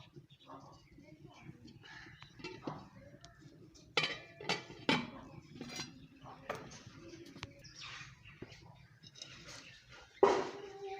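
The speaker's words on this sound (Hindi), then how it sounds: "अब हम इसके ऊपर कढ़ाई रख लेंगे।" A heavy kadhai clanks down over a freshly lit wood fire outdoors, with a few sharp metallic knocks standing out above a voice talking and birds calling in the background.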